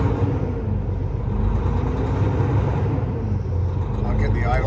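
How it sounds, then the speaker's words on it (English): A 2014 Volvo VNL670 truck with a D13 engine idles nearby, a steady low diesel rumble that holds even throughout. "I'll get the idle up so you can have a good listen."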